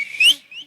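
A man whistles a short, clear tone that slides upward, pauses briefly, then sounds a second fainter note, close and alone.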